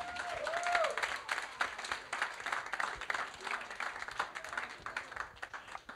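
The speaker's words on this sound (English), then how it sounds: "Clap, clap, clap." Applause from an audience at an awards ceremony, a dense steady patter of many hands clapping for several seconds with faint crowd murmur underneath.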